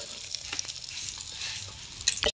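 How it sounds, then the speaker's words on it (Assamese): Fish heads frying in hot oil give a steady, close sizzle with light crackles, ending in a few sharper spatters and stirring clinks before cutting out. "যোনখিনি মাছৰ মাথাখিনি যে ফ্ৰাই কৰি আছে"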